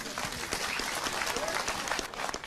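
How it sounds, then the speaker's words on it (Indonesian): A crowd at a talk gathering breaks into applause, a dense, even wash of clapping from many hands that holds throughout, with a voice speaking faintly underneath. "Tepuk tangan untuk Sabran."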